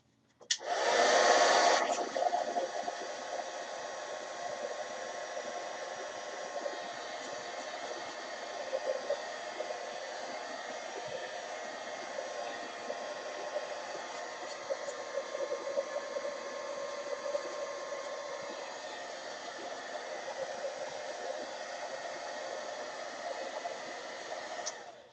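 A heat gun blows steadily for about 25 seconds, drying stencil artwork in a chevron pattern. It starts with a brief louder burst, then holds a constant broadband hiss and whir up close, with no talking.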